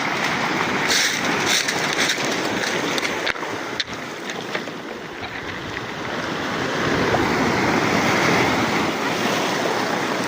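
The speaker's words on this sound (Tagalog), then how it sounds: "Uy, malaki alon." Large ocean waves surging and crashing close by while fishing from the shore, a continuous loud roaring wash that swells toward the end.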